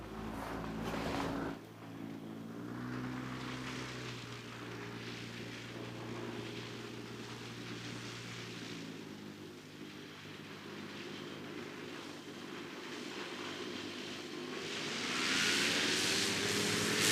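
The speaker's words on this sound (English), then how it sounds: "It amazes me how quick these microlights get airborne." A microlight aircraft takes off at a farm airfield, its engine droning steadily at a distance and building in level and brightness near the end as it climbs away, with no voices.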